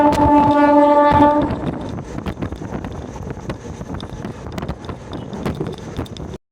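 A MEMU train departs Karamadai station on the Coimbatore–Mettupalayam line. A loud, sustained horn blast opens, then it gives way to rolling wheel clatter and rhythmic knocks of the carriages moving off.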